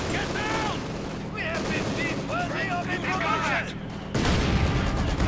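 Machine gun fire and other battlefield gunfire from the Company of Heroes 2 strategy game, a steady crackle of shots under continuous commentary talking over it.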